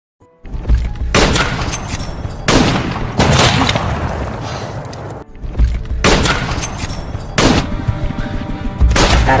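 Sniper fire and return fire in the war film 1917 come as loud, heavy blasts in bursts, each shot booming and ringing out, with short quiet gaps between.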